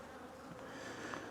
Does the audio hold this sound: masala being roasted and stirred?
no